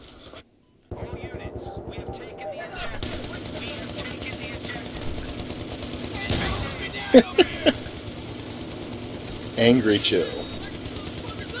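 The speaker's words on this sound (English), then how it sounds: "Wasn't that you shooting the dead body with your PKP?" Bursts of PKP machine gun fire in a video game sound as short clusters of sharp cracks, mostly faint and mid-distance, under continuous talk and a steady background drone.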